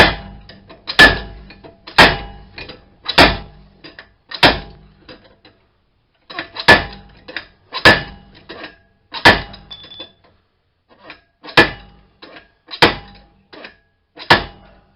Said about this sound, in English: So I'm going to slide hammer a few more times and hopefully it pops out